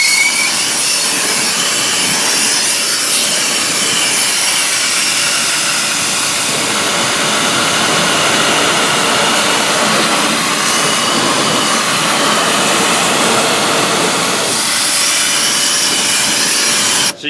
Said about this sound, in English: This nozzle here at Northern Tool allows you to go from 40 degrees all the way down to pretty intense.